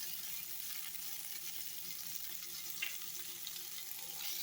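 Ginger, tomato and coriander leaves sauté in a pan for a spicy ginger chutney, giving a steady soft sizzle with faint stirring throughout, close and fairly quiet, with no talking.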